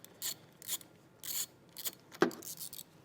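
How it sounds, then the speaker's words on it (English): A ratchet with a 10mm socket loosens the nut on a vehicle battery's negative post: short, close raspy clicking bursts separated by brief pauses. "So I have a 10mm socket here. I'm going to remove"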